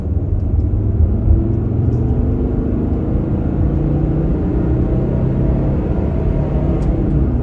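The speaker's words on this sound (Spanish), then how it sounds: "También es lindo el sonido de este 5 cilindros en línea, suena muy bien cuando lo acelerás a pesar de ser un diésel" Mercedes-Benz E250 W124 with an inline five-cylinder diesel, revving steadily under acceleration, a continuous low engine drone heard from inside the car with no talking.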